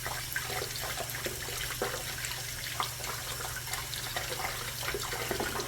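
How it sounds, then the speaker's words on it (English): Hands being washed under a running kitchen tap, a steady rush of water with faint splashes and trickles, close and continuous, alongside a low constant hum and no speech. "Wash my hands right quick."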